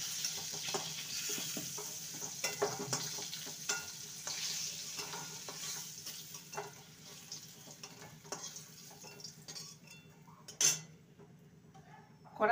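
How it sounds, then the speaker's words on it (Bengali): Potatoes and pointed gourd fry over medium-high flame in a pan, giving a continuous close sizzle with scattered spatula scrapes and light clinks of utensils against the pan. "আলু আর পটলকে মিডিয়াম টু হাই ফ্লেমে ভালো করে ভেজে নিয়েছি"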